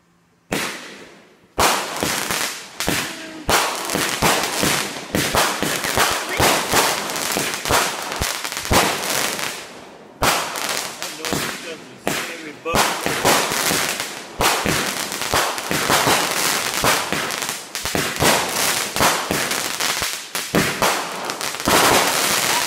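Rapid, dense crackling bursts of small Fourth of July fireworks popping nearly continuously, loud and close, with brief pauses between volleys.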